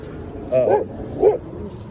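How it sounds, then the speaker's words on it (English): A big dog barks twice, fairly close and moderately loud, with a low steady background underneath. "oh my God, that's a big dog."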